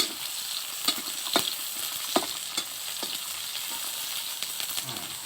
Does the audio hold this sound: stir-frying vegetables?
yes